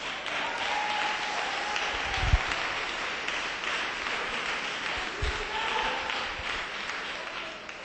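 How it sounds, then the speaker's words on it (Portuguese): Church congregation applauding during a Portuguese-language sermon, a dense, steady burst of clapping that fills the room for several seconds with a couple of louder thumps. "Dá uma salva de palmas para Jesus."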